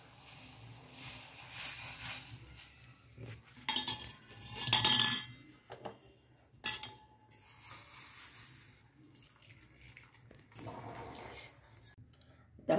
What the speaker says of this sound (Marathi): आता आपण हे गाळून घेऊया.